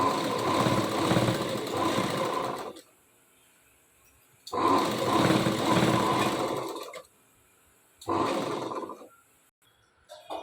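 A sewing machine stitches a kurti in three sustained whirring runs of about two to three seconds each, separated by near-silent pauses, loud and close with a steady mechanical drone.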